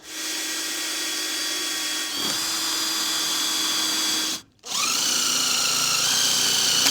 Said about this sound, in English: I'm just pilot holing a couple of hidden fixings on this board